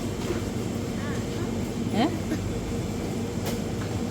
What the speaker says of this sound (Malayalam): The final destination of this train is UAE Exchange.